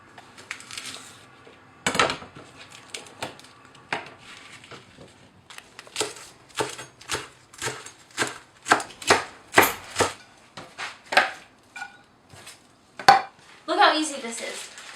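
A knife thinly slices a bunch of stemmed collard greens on a cutting board, a rapid series of crisp chopping taps, with someone talking over parts of it.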